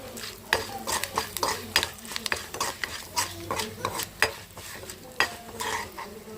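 Chutney ingredients frying in a pan as a spoon stirs them in quick, uneven scraping strokes over a steady sizzle, close up with no talking.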